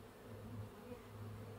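A low, dense drone of many honeybees buzzing around a Warré hive, close and continuous, with a faint wavering hum and nothing else.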